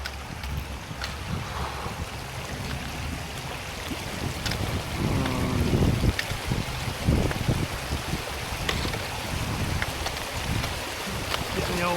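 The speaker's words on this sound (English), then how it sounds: "fixing to cross Ridgeline Creek" A hiker wades across Ridgeline Creek in waterproof socks, sloshing steps splashing through the water over a constant rush of flowing stream and wind buffeting the microphone.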